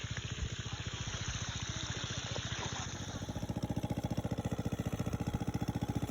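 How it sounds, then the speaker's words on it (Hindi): A machine-driven water pump runs close by to irrigate a corn field. Its engine chugs in a fast, steady throb that grows louder and more evenly pulsed partway through, with a faint wash of water underneath. "ये मशीन से पानी निकाल के पाइपों के सहारे खेत तक पहुंचाया जा रहा है।"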